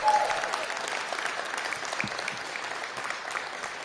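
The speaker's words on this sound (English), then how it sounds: "another big round of applause" Steady, dense audience applause at a mayoral ceremony honoring local heroes, a continuous wash of many hands clapping at close range with no talk over it.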